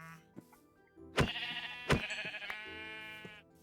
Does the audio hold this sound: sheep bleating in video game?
yes